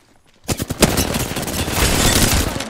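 Rapid Apex Legends gunfire: after a brief quiet, a loud string of close shots breaks into a dense sustained burst of automatic fire, with no talk.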